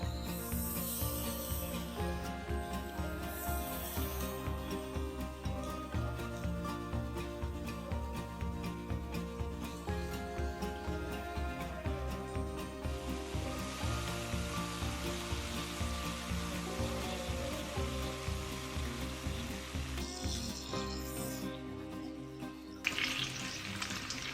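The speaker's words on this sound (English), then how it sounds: "sticking with the thick cut bacon was really true to the time and good for cooking it in a pan like we would have over a fire" Thick-cut bacon fries in a pan with a steady, close crackling sizzle that holds on for a long stretch, with sharper pops and spatters scattered throughout and no voices.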